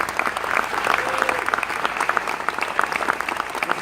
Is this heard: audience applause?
yes